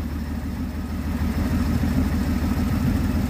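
An old manual Mercury Capri, long left sitting, idles steadily with a low, even engine rumble that rises slightly in loudness partway through, heard close up and without speech.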